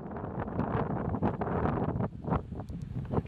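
Strong wind while kayaking in Canada buffets the microphone in a constant low roar, gusting louder and softer, with no voices.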